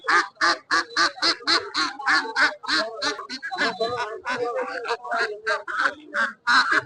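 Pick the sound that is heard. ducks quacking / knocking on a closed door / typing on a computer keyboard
ducks quacking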